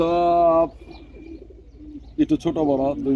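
Owl-head (pecha) fancy pigeons coo in a loft, with one long, resonant coo, a quiet pause, and then a burst of fluttering clicks before another throaty coo close by.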